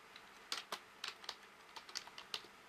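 Typing on a computer keyboard while entering Thai text, quiet, irregular clicks and taps in short bursts, close and isolated against near silence.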